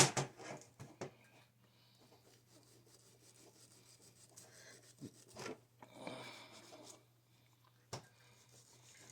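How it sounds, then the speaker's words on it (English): Wire brush scrubbing carbon off the edge of an LS engine piston, with a series of short, dry scraping strokes in irregular bursts, close and fairly quiet, no talk. "I just take my wire brush. And it just cleans right off."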